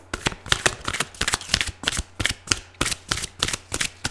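Rapid, rhythmic riffling of a deck of tarot cards, repeated bursts of crisp flutters roughly every half second, close and fairly loud with no talking.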